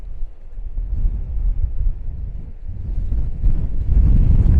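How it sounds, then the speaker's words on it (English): Strong gusty wind on a Scottish headland buffets the microphone as a loud low roar that swells and builds toward the end. "it's a breezy day. I'd say the gusts on the headlands are around 40 to 50 miles an hour"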